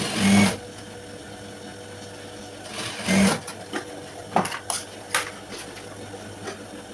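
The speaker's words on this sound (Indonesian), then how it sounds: "Bagian ini kita jahit menurut garis sama ya, seperti tadi." Sewing machine stitching a high school skirt, short motor whirs in two bursts followed by small clicks and handling taps, close and clear with no talk.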